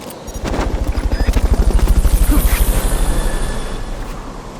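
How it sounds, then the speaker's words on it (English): Helicopter in the video game Metal Gear Solid Peace Walker on PS3, its rotor thumping in a steady fast pulse that swells up close and then eases off, loud and alone. "Fulton recovery subject confirmed onboard helicopter."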